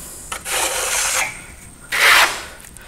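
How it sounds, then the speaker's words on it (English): A steel trowel spreads and compresses FirmoLux Piatto plaster finish on a wall in two close, rasping, scraping strokes separated by a brief quieter pause. "just using the angle of the trowel to create the same amount of material at a time as we can"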